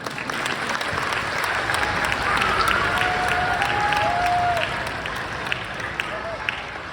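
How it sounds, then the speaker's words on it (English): Audience at a middle school winter concert clapping for student soloists, a steady, full round of applause from a sizable crowd with some murmuring voices mixed in, holding level for the whole stretch. "We can clap for them now as well."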